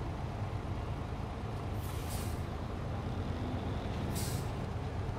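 A truck's air brake in SnowRunner, the International Paystar, gives two short hissing bursts of released air over a steady low engine rumble, fairly close.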